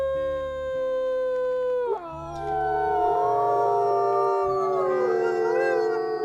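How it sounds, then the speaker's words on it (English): Several wolves of a pack in the WolfQuest video game howl together, long overlapping sliding tones that rise, hold and waver, loud and close and sustained throughout. "Let's go ahead and do a howl just to mark this."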